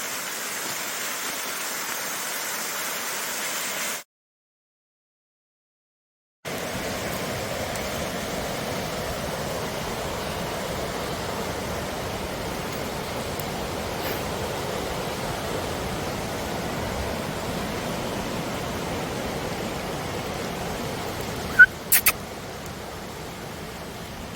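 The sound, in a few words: waterfall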